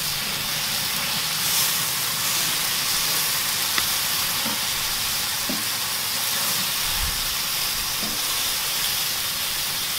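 Shrimp sizzle on an Artflame grill insert set on a Weber kettle, a steady, even broadband hiss with no talk and only a few faint clicks and pops.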